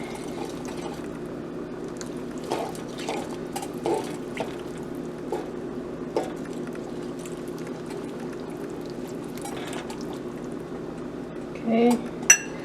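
Wild rice with mushrooms and colorful seasonings is stirred in a pot, giving a few soft, scattered scrapes and utensil clinks over a quiet, steady background hum, with a sharper knock near the end.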